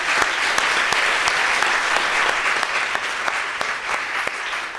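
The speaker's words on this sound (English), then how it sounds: "another round of applause for our panelists and presenters" A symposium audience in Bellingham, Washington applauds panelists and presenters with loud, dense, steady clapping that fills the room at an even level from start to finish.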